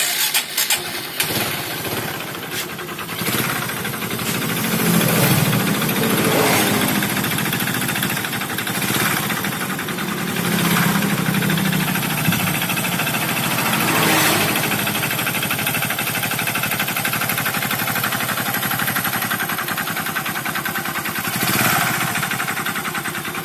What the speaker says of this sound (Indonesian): Di sini terdengar suara ketukan di tengah engine.